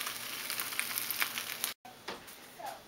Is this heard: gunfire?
no